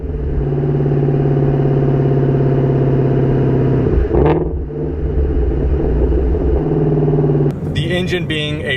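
Shelby GT350 flat-plane-crank V8 idling with a loud, steady droning burble that dips briefly as the revs blip midway, then a voice begins talking over it near the end.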